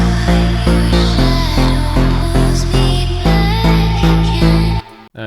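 Heavily compressed, reverb-soaked vocal sample from an Angelcore expansion pack, playing as a loud, pulsing chopped melodic phrase in steady repeated steps with a long wash of reverb, then cutting off abruptly near the end.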